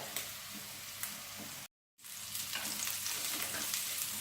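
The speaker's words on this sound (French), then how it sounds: "donc je l'ai fait dorer et puis on se retrouve juste après" Chicken meatballs sizzle and crackle steadily as they brown in a frying pan, a close, dense hiss interrupted by a brief silent cut partway through.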